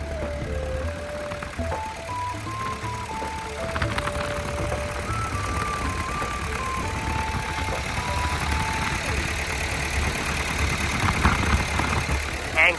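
The diesel engine of a Komatsu PC120-8 12-ton excavator, a Komatsu 4D95L, idles steadily and close by, a low continuous rumble with rattly mechanical texture, while faint tonal whines drift in and out.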